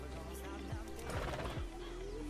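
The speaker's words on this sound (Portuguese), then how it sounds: "Vamos dar uma escovada no cavalo." A horse in the Red Dead Redemption 2 video game, with a brief whinny and a few soft hoof clops, quiet and close, over faint background ambience.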